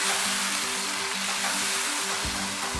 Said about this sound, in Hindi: अब इसमें टमाटर डाल देते हैं।